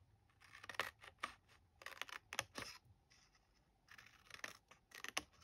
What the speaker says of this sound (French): je viens couper, en fait, ici, mes petites languettes de collage.